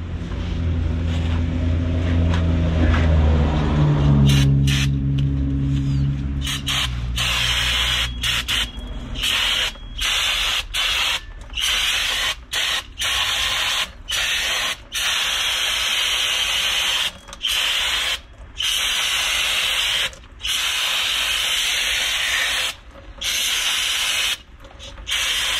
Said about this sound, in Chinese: 那我们既然都把鼓刹拆开了，我们就可以给它做一下清洁，把这里面的灰尘呢给它喷一下。